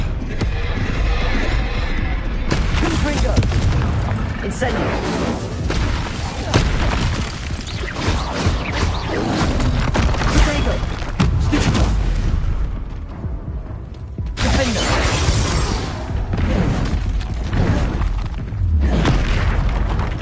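Spell blasts in the Hogwarts Legacy video game: Defendo, Expelliarmus, Incendio and Confringo cast in combat, heard as a dense, continuous run of booming, thudding impacts and bursts that keeps the sound loud from start to finish.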